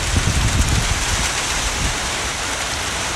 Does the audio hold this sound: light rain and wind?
yes